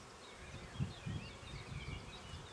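Bees buzzing around an opened beehive as frames are handled, a faint, steady hum with a few louder passes of individual insects nearby, no speech.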